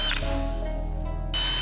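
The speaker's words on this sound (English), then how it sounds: "we'll drill out with a bit matching the diameter of the bolt being extracted" A power drill bores out an old bolt on an Eclipse under restoration, a short close burst of steady whining motor with the bit grinding into metal.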